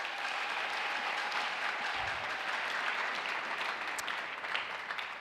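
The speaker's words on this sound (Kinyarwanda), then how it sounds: "Mwanyemera tugakomera Imana amashyi." Sustained applause from a crowd, a steady wash of many hands clapping at moderate volume throughout.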